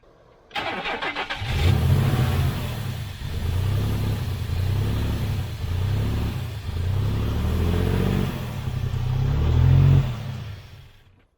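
An abandoned 1991 GMC pickup truck engine cranks, catches and starts, then idles roughly with uneven surges and revs for several seconds before dying down.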